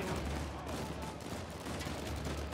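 Blind fire gunshots in Uncharted 4 form a dense, continuous rattle of rapid shots at a steady, fairly loud level, with faint voices under the noise.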